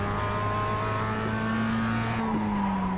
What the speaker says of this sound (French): Le son de la Mazda est merveilleux.